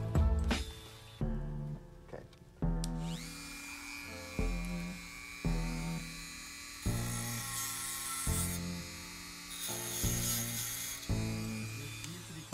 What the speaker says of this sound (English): We're gonna line them up like shots and we're gonna dremel it.